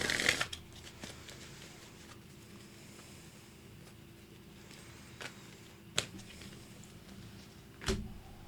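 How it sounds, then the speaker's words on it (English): Tarot cards being shuffled by hand, quiet and close: a brief burst of card riffling at the start, then soft scattered clicks and taps of cards against each other. No one speaks. "Once I'm done shuffling, we'll lay them out."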